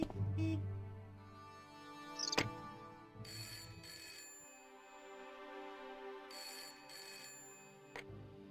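Telephone ringing in the Broken Sword: Shadow of the Templars adventure game, with repeated bright electronic rings in bursts over quiet background music, ended by a click.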